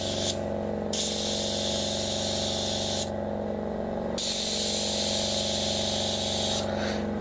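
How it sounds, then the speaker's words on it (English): An air compressor hums steadily throughout while an airbrush sprays clear coat on a scale model in bursts of loud hissing that start and stop, with a continuous low motor drone underneath. "Okay guys, sorry about the compressor noise."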